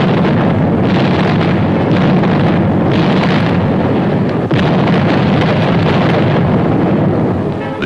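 Rumbling WWII artillery fire in France in 1944, a dense, loud, continuous roar with heavy booms and blasts layered over a constant low rumble, with no voices.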